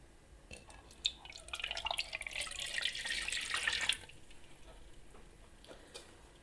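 Warm water is poured into a bowl for English muffin dough, a soft splashing trickle that swells for a few seconds and then tapers off to scattered drips in a quiet kitchen.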